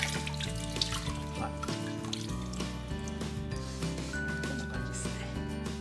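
Hot water from a tap runs and splashes steadily while a Kubota Slugger hardball outfielder's baseball glove is worked into shape, with faint clinks in the background.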